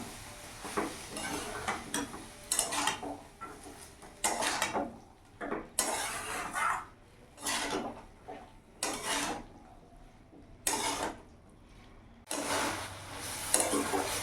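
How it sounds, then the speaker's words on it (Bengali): Drumstick flower curry being stirred in a pan, a series of irregular scraping and clanking strokes of a utensil against the cookware, close and fairly soft, separated by short quiet gaps. "এবার আমি ভালো করে মিশিয়ে নেব।"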